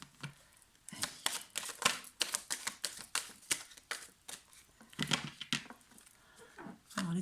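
Tarot cards are shuffled and laid out, making a quick run of crisp, close card snaps and flicks in an uneven rhythm, with a brief murmur of voice near the end.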